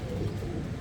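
A pigeon coos low and soft in a short, continuous murmur, close by and on its own.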